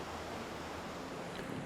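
Sea waves wash steadily along a coastal walking trail on the East Sea, a continuous soft roar of surf mixed with wind, with no voices.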